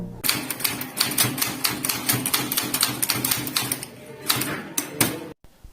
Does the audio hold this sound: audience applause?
no